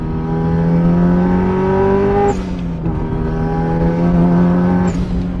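Subaru Impreza STI Spec C RA-R with short gear ratios, pulling hard in third gear toward 8,000 rpm: a loud, continuous engine roar climbs steadily in pitch, dips briefly twice, then surges again, close and alone with no talk.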